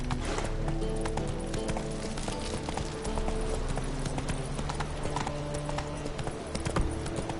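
Hoofbeats of the horse Roach galloping in The Witcher 3 video game, a steady fast clip-clop running throughout over a continuous game soundtrack, with no talk.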